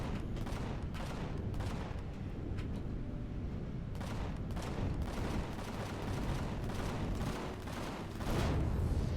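Ship-mounted guns firing in the space game Empyrion Galactic Survival, a dense barrage of rapid booming shots in irregular bursts that stays loud and continuous throughout.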